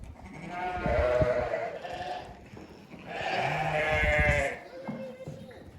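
Sheep bleat loudly at close range on a farm during feeding, a couple of long, wavering calls overlapping other flock noise, while people talk nearby.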